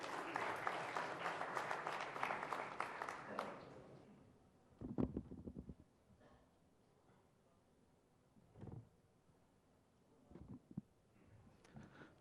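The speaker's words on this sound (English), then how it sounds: "let's give them a warm round of applause before we begin" A conference audience applauds at the India Today Conclave 2023, a dense burst of clapping lasting a few seconds that then dies away, leaving a quiet room with a few scattered thumps and noises.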